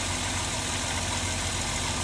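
A vehicle engine idles steadily during an alternator change-out, a continuous low rumble close by with no voices over it.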